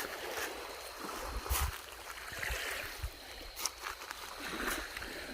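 Small waves lap softly against a stone beach on a calm, windless lake at night, a gentle steady wash with occasional light splashes.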